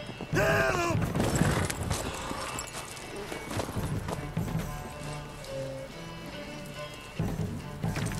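A horse whinnies near the start in The Witcher 3: Wild Hunt, followed by hooves and scattered clatter and creaks, moderately loud.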